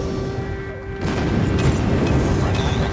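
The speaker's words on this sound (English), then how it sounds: "Friendly airstrike incoming" Airstrike explosions rumble through a video game battle: a heavy blast lands about a second in, followed by several more booming impacts at roughly half-second intervals over a constant low roar.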